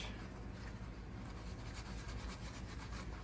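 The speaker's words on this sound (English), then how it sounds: "you want to just hit it up, maybe rub it in a little bit like that" Detergent being rubbed by hand into the armpit fabric of a Spider-Man suit, a steady soft scrubbing friction, close and quiet, continuing without a break.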